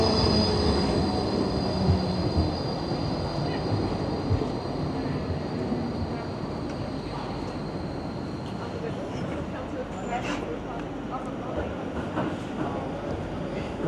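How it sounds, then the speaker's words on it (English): Trams rolling along a busy street in Basel, Switzerland on a summer day, a steady rumble of rail traffic with high metallic wheel squeal drifting over city noise, with talk in the background. "Look at all the trams, man."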